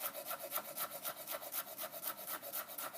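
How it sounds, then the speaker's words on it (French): A knife chops curly parsley on a cutting board in a quick, even rhythm of soft rasping taps. The sound is faint and close, with no speech. "Je vais prendre un petit peu de persil frisé qu'on va hacher."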